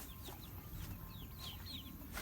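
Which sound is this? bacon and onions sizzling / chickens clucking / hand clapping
chickens clucking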